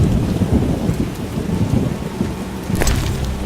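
Heavy rain pours down steadily in The Witcher video game while low rumbling thunder rolls beneath it, with a brief sharper crack near the end.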